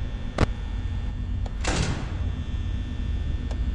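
A door opening or closing in the Five Nights at Freddy's VR game, heard as a short sliding whoosh with a thud, set between a few brief clicks over a steady electronic hum.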